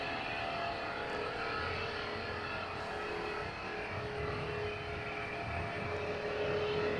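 Aircraft taxiing along a taxiway at Zurich Airport, a steady low engine rumble and hum with a faint high whine, moderately distant and continuous throughout, no talking.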